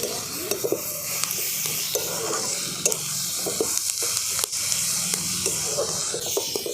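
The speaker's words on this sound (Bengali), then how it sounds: "টমেটো আর পেঁয়াজটাকে আমি খুব ভালো করে ভাজা ভাজা করে নেব" Chopped tomatoes and onions frying in a pan give a steady sizzle, with the sharp clicks and scrapes of stirring spread throughout.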